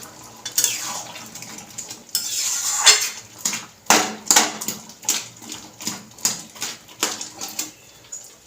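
A spoon mashes boiled potatoes into ghugni in a pot, making a rhythmic series of close metallic scrapes and taps, roughly one every half second, that grow regular in the second half.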